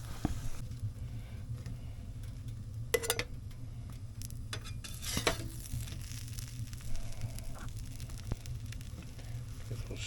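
Toast topped with cheese sizzles in a covered frying pan on a camp stove in a winter tent, a low steady hiss over a hum, with a few sharp clicks and ticks breaking through.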